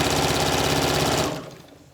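Sewing machine running fast and steady while stitching a Yup'ik qaspeq, a loud, even rapid chatter of the needle for over a second before it abruptly stops, leaving faint room noise.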